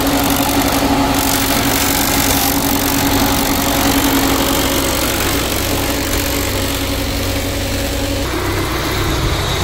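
A Peugeot 406 engine runs steadily at idle while the cooling system is bled, a constant close mechanical hum with faint hissing and no talk.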